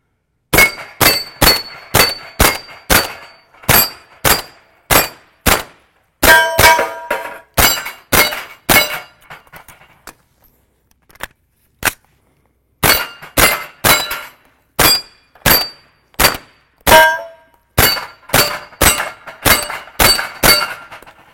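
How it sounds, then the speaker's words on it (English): A .40-caliber pistol fires a long string of loud, sharp shots at a steel plate rack at an outdoor range, with ringing clangs as plates are hit and a short break midway for a reload before steady firing resumes. "40 definitely hits harder than 9mm. Thank goodness, because these are really hard targets to knock down on these plate racks."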